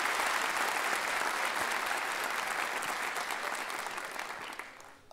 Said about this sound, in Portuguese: eu queria aquela salva de palmas pro Anthony.